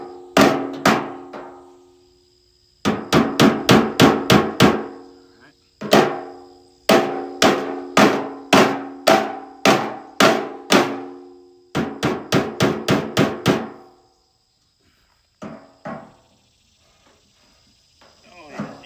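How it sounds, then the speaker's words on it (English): A hammer knocks out a dent on the body of a 1966 Ford truck, sharp metallic strikes in quick bursts of several blows with short pauses between, loud and close, tapering to a few lighter taps at the end. "I'm gonna go ahead and knock this little dent out here as best I can."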